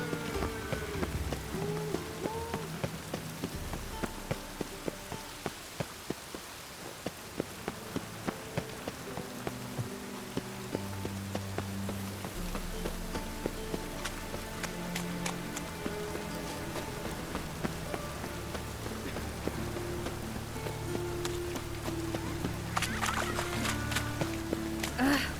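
Rain falls steadily on streets and surfaces in The Witcher 3: Wild Hunt, a soft continuous patter of many drops, layered with faint game ambience and occasional clicks and footsteps.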